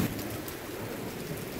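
Heavy rain pours down during a thunderstorm with thunder and lightning outside, a dense, steady hiss of rainfall with low rumbling beneath it and no voices.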